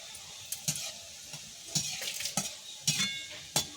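Boondi drops frying in hot oil for a sweet-shop style bonde, stirred with a spoon in a few scraping passes over a soft, steady sizzle, close and fairly quiet.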